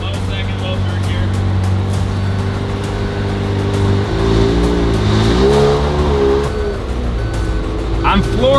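A rebuilt McLaren engine runs on a dyno, droning steadily and then revving up in a rising, loud sweep with whining overtones, while people talk over it.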